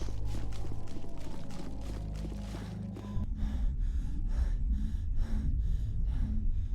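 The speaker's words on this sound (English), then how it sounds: "Be honest, that sounds like male panting." In the Mass Effect Legendary Edition video game, a male character pants in rhythmic, heavy gasping breaths, repeated steadily over low background game ambience, with no talk.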